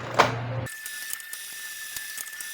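A Canon G-series inkjet printer (G3420/G2020/G3020 family) running a deep print-head cleaning cycle: a short, loud mechanical ratcheting burst, then a steady, quieter whirring hum with a thin, constant high whine.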